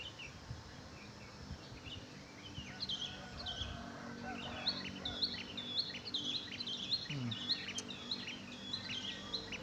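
Wild birds chirp and tweet in a morning scene at Puncak, with repeated high calls from several birds at moderate distance over a steady outdoor background hum and some low rumble.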